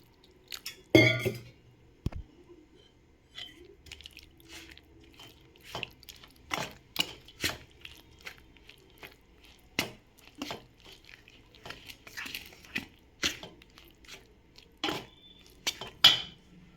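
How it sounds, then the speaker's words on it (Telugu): A spoon clinks and scrapes against a bowl in a quick, irregular series of taps while dosa batter with curd and water is mixed, close and clear with no talking. "కొద్దిగా వాటర్ కూడా పోసి కలుపుతాం"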